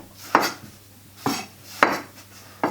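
A knife cuts through cabbage and strikes the board in four separate sharp chops, spaced unevenly and heard close up with no talk.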